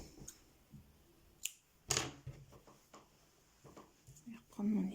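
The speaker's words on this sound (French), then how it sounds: "Je vais couper celui-là." Scissors snipping knitting yarn close up during knitting work, with a couple of sharp single cuts separated by quiet handling noises and soft speech.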